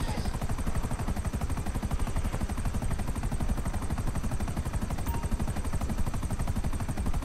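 A steady, close aircraft engine drone in GTA V Online, a loud rapid rhythmic chopping throb that holds constant throughout, with no talk over it.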